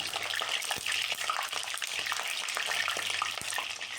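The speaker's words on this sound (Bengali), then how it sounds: "তেলটা গরম হয়ে আসলে একে একে রোস্টের পিসগুলো তেলের মধ্যে ছেড়ে দেব" Quail roast pieces frying in hot oil crackle and spit densely and continuously, a close, busy sizzle that stays steady from start to finish with no talking.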